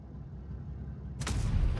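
In the video game World of Tanks Blitz, after a low steady engine rumble, a single sharp AMX M4 45 tank cannon blast bursts out loud and close, followed by a booming tail.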